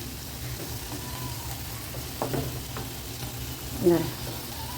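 Brinjal sautés in a pan for a chutney, a quiet, even sizzle broken by a couple of short scraping stirs and one louder spatula scrape near the end.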